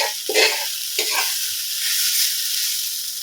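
Carrots go into a pan of fried rice, sizzling loudly with a couple of sharp bursts of frying and stirring near the start, then a steady close hiss.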